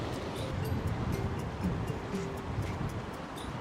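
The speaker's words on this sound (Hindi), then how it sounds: "बहुत ही शांत जो है गंगा नदी की आवाज़ आ रही है" The Ganges river at Harsil flowing steadily, a constant broadband rush of water with a soft wind-like hiss. It sounds close and fairly loud, with no voices over it.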